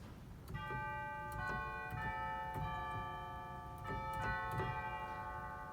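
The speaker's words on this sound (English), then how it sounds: "And we have a really nice set of chimes." Bright sustained chime tones from a Peragallo pipe organ's chimes stop ring out in overlapping strikes, several notes sounding in sequence and lingering, clear over a soft background.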